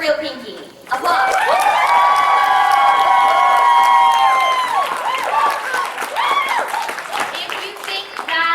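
A convention crowd at a BronyCon pony-costume contest claps, cheers and whoops in a sustained burst of applause with shrill children's and adults' shouts, swelling loud after a brief dip and carrying on to the end.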